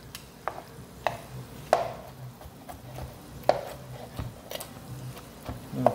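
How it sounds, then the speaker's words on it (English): A knife chops through pork ribs for tacos, trimming off tendon ends: close, sharp cuts land at an uneven pace with short gaps between them, over a soft kitchen background. "A little chopped up there."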